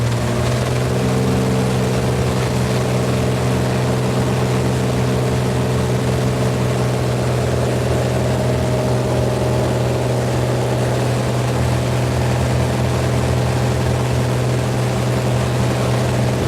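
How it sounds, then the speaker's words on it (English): Steady, loud drone of Lima Lima aerobatic team propeller aircraft engines building power for a formation takeoff at Danville, Virginia, a constant close roar filling the cabin without pause. "Accelerate to about 110 and leave the runway."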